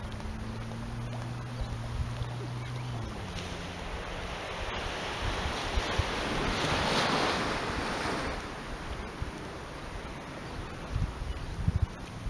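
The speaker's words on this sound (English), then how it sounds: "Try and tune into the waves, maybe tune into the birds" Ocean waves wash onto Big Manly Beach in New Zealand, a steady broad surf rush with a swell building midway, mixed with wind buffeting the microphone and a low drone early on.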